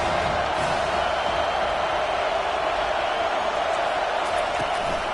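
A football stadium crowd at Penn State vs Memphis roars steadily behind the defense on a big third down, a dense, sustained wall of noise with no break.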